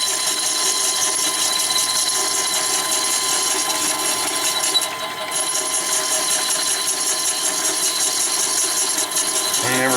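A metal lathe faces off a metal workpiece lubricated with cutting fluid, producing a loud, steady whirring drone with a constant machine tone throughout.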